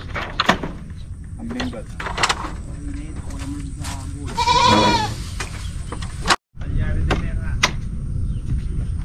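A goat bleats in a wavering call from a rural yard after a flood, mixed with knocks, clatter and people talking nearby.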